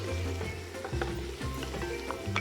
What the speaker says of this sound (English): Can you hear that there? Sizzle, sizzle.